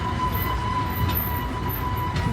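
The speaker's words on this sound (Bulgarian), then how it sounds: "Буквално може да мине само влакчето." A small tourist road train in Side, Turkey, rumbles through a narrow tunnel, a continuous loud enclosed roar with a steady tonal whine and occasional faint high squeaks, no voices.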